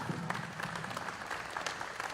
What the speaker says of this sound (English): Let's give a big round of applause to Matt Olson.